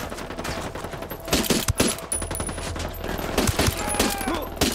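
Rapid bursts of automatic gunfire during a firefight in the Ghost Recon Wildlands shooter game, loud overlapping volleys and sharp single shots that keep coming, with faint voice in the background.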